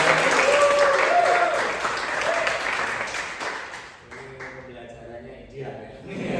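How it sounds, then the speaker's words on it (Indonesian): A classroom audience breaks into applause, a dense sustained clapping that fades over several seconds into quieter room noise with a voice speaking underneath. "Luar biasa, aplaus juga."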